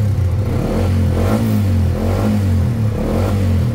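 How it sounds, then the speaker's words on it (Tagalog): A car engine revs after a fuel pump repair, a steady mid-pitched drone rising and falling in a few slow surges. It is loud and close, with no talk over it. "goods yung response at mga galaw ng RPM ng makina"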